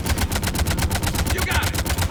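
Rapid, steady automatic weapon fire from a Harvester in the Mass Effect video game on Tuchanka, a loud close burst of evenly spaced shots throughout.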